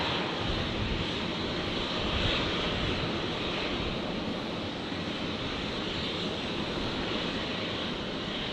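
Qantas jet airliner lining up on runway 19 left at Brisbane airport: a steady, broad engine roar heard from a distance, constant and even throughout, with no talk.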